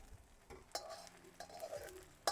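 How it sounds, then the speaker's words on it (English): Shallots shallow-frying in hot oil on a BBQ give a quiet sizzle, broken by a few sharp scrapes and clinks of a utensil stirring the pan. "Those shallots are literally shallow deep frying."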